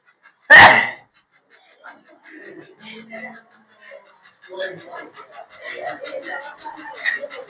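A single sharp sneeze bursts out loudly and close, followed by a teacher speaking during a maths lesson.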